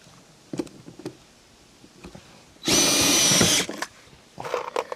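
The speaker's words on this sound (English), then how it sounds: "I don't have a good way of doing the ends, so I pre-drill those" A power drill whirs for about a second, pre-drilling the end of a white oak deck board amid scattered taps and knocks, with more light handling clatter afterward.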